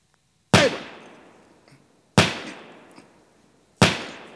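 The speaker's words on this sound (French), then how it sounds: "un coup de feu retentissant" Three loud, sharp gunshot-like bangs from a cinema sound-effect device, evenly spaced about a second and a half apart, each cracking sharply and then decaying quickly into silence.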